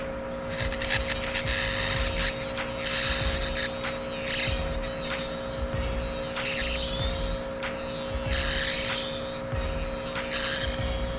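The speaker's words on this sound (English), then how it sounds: "file with a medium coarse carbide bit" An electric nail file fitted with a medium coarse carbide bit whirs and grinds across a nail in repeated bursts, rising and easing over a steady motor hum during a glitter fade manicure.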